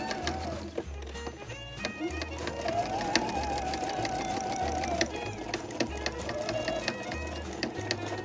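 A sewing machine stitches through red felt, batting and white fur on a quilted Christmas stocking, running in steady rhythmic bursts with brief pauses between runs, close and clear.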